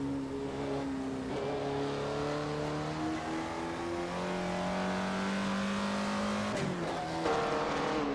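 A 1955 Jaguar D-Type race car in an Assetto Corsa racing game drives through the Scottish Highlands, its engine droning steadily and rising through the gears, with a brief tire squeal near the end.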